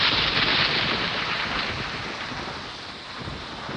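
Rain and thunder roll through a storm scene in Bus Simulator Indonesia, a broad steady hiss of rainfall with a low rumbling swell that eases off slightly midway and then builds again.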